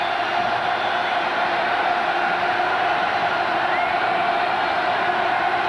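A stadium crowd roars steadily at a Texas A&M vs LSU college football game, a broad sustained wash of cheering with no breaks, heard at a distance as if from the broadcast booth.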